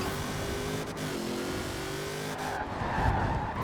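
A 1,300-horsepower Ford Bronco racing in Forza Horizon 4, a constant close engine drone with a gearshift dip and renewed climb, plus a short tire squeal near the end, no talk.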